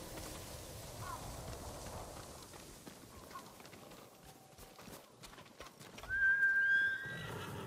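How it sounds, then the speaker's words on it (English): Horse in the samurai action game Ghost of Tsushima gives a loud, close whinny near the end, preceded by soft hoof clip-clop on the ground amid light ambient outdoor sounds. "I shall ride my horse there"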